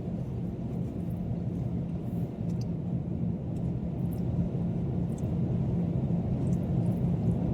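Steady low rumble of a car cruising on a highway in Germany during heavy rain, continuous and droning with no talk.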